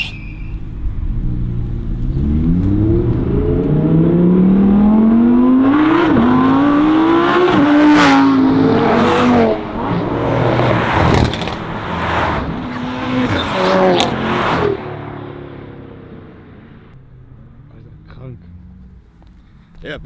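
Performance cars at the Performance 61 motorsport event roar loudly with rising revs, rapid gear-change bursts and tire squeal, then the engine noise drops away toward the end, while people talk over the din.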